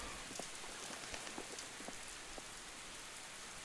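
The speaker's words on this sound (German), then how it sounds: "Oh, jetzt regnet es" Steady rain falling in a horror video game, a soft continuous hiss of drops pattering on surfaces with a few sharper individual drips, faint and even with no voices.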